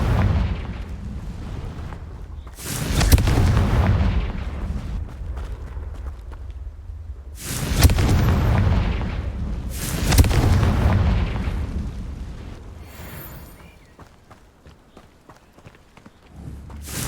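Fiery Confringo blasting spell from the Hogwarts Legacy video game, bursting in several heavy booming explosions that rumble and fade, each several seconds long, with gaps of quieter ambience between them.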